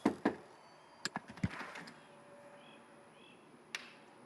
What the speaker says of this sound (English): Knock on the door so don't freak anyone out.